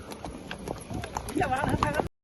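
A mare's hooves clip-clop in a quick, running rhythm close by on a sunny day after rain, with people's voices talking over the hoofbeats.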